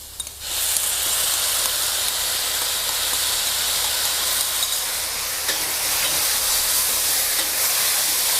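King oyster mushrooms stir-fried over high heat with oyster sauce, giving a loud continuous hiss and sizzle that rises sharply at the start and holds steady throughout, with faint stirring.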